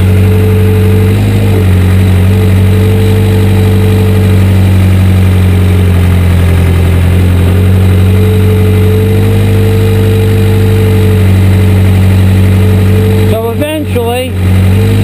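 A tractor-loader-backhoe engine runs loud and close, digging on a beach build site in Key Largo, with a steady droning idle and brief revs near the end.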